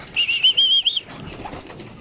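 Pet pigeons in a flock of sixteen flutter their wings, a brief close whir of flapping with a high whistling tone at first, then softer rustling.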